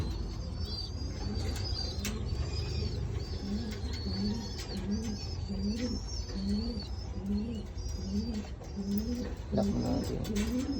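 Pigeons or doves cooing close by in repeated soft rolling phrases, with occasional wing flaps and faint chirps among the birds, no talk heard.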